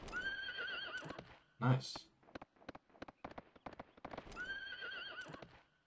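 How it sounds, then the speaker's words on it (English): A horse in the video game Suikoden III whinnies with a rising, wavering call twice, with a sharp snort between, over light clip-clopping hooves, while a person speaks briefly. "Oh, I've got a horsey."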